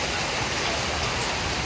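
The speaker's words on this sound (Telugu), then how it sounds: "ఫుల్ వర్షం పడుతుంది, ఫుల్ అంటే ఫుల్ పడుతుంది" Heavy rain pours down steadily in a dense, unbroken hiss that fills the whole clip, loud and close, with no pauses or distinct drops standing out.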